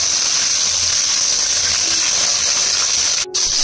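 Marinated pomfret fish from Digha goes into hot oil one piece at a time, setting off a steady, bright hiss of frying that runs loud and even, with one brief dropout near the end.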